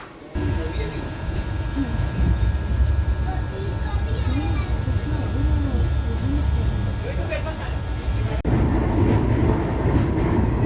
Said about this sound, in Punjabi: ਟ੍ਰੇਨ ਦੇ ਤੁਰਨ ਦਾ ਟਾਈਮ ਹੋ ਗਿਆ